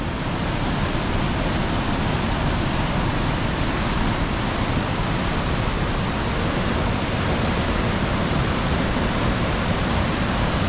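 A powerful waterfall near Callander roars with rushing water, a loud, steady, broadband wash that fills the scene without a break and is heard on its own.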